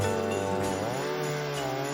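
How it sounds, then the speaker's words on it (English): A small chainsaw runs steadily at close range, its engine pitch shifting slightly as it revs, with no talking. "this is me and him running the little saw"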